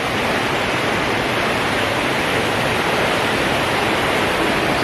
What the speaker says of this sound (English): That's the river.